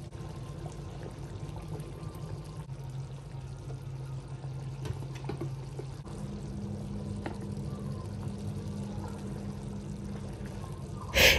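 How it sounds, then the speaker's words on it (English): A steady stream of hot boiling water pours into palm nut soup for several seconds, a soft continuous splashing and gurgle in a quiet room, ending with a small knock. "I'm going to add a little bit of water, hot boiling water"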